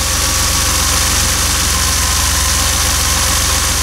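A DeLorean DMC-12 with the PRV V6 engine idles steadily just after starting, a close, even, throbbing hum with a fast regular pulse and no speech.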